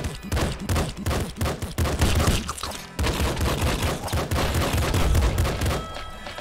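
Dual-wielded guns in the video game Nuclear Throne fire in rapid, dense, loud volleys of overlapping shots, pausing only briefly midway before the barrage resumes.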